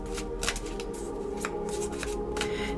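Tarot cards are shuffled by hand in a quick series of crisp riffling bursts, close and fairly quiet, with no voices.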